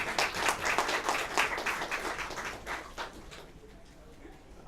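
A small audience at a pitch event gives a round of applause, a quiet patter of clapping that tapers off into a near-silent room with a faint sound at the close.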